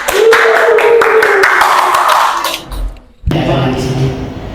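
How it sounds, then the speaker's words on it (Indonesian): A short burst of clapping from a group in a classroom, brisk and close, dipping briefly near the end before picking up again. "tepuk tangan untuk kelompok 5"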